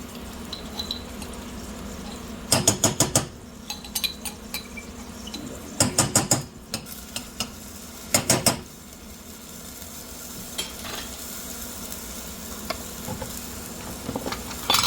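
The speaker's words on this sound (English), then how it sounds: "I think I'm gonna go ahead and scrape out this jar first" A spoon scrapes out a jar of ginger in a kitchen: three short bursts of scraping and clinking, close and fairly loud, separated by quiet pauses with a few small knocks.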